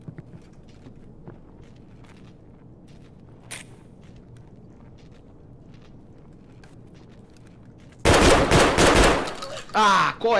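Escape from Tarkov gameplay with quiet ambience and faint footsteps, then a loud, close burst of rapid gunfire lasting about a second, followed by further sharp shots.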